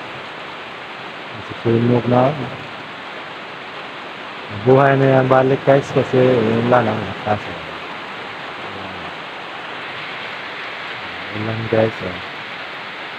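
Steady rain pours down as a constant broadband hiss throughout, while someone speaks over it in a few short bursts.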